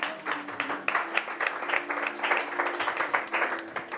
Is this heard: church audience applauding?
yes